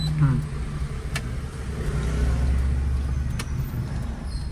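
A car turns right in a narrow lane during a driving lesson, its engine a low steady hum at gentle throttle, close by and continuous with faint ticks over it.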